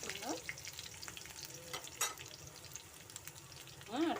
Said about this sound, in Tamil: கருவேப்பிலை போட்டு கொஞ்சம் வ வணங்கிருட்டோம்